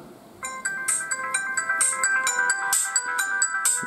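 A Motorola Razr V8 Luxury Edition phone plays its built-in Carbon ringtone, a bright, clean electronic melody of quick repeating chimed notes, close and steady with no talk over it.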